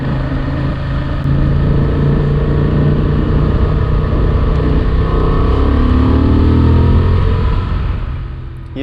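A Honda Transalp XL750 motorcycle with an A2 power limit accelerates on the road, its engine note rising in a steady, loud drone with wind rush, with no talking.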